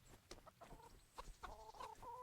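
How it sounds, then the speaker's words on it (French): Chickens clucking in the video game Kingdom Come, a few short, soft clucks and squawks scattered over a quiet background. "Les poules, les popolettes."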